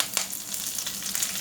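Curry leaves hit hot oil already popping with mustard seeds, giving a steady close sizzle with a few sharper crackling bursts throughout, no voices.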